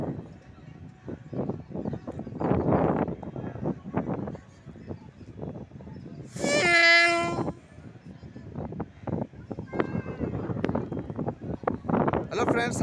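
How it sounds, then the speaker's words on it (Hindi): Pawan Express mail train slowly pulling into a station platform, with a rumbling rolling clatter, a loud horn blast partway through and someone talking over the train noise. "यहाँ पर मेल ट्रेन खड़ी है पवन एक्सप्रेस, और धीरे धीरे गतियों से चलती हुई आ रही है ये ट्रेन"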